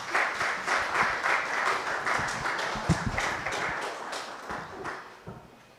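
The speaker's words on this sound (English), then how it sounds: "Let's give them a round of applause, please." A conference audience applauds a panel at a business and investment townhall on Kenya's economy. The clapping is dense and steady, with scattered sharper claps, and it tapers off near the end.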